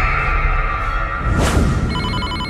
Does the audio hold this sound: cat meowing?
no